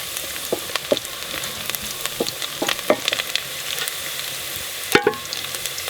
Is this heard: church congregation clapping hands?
no